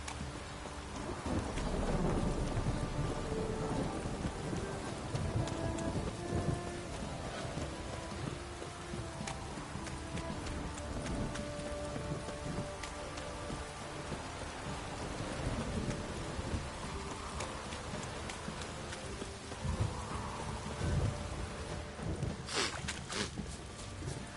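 Rain and thunder in the video game The Witcher 3, heard as a steady, dense downpour with rolling thunder rumbling underneath, continuous throughout without talk.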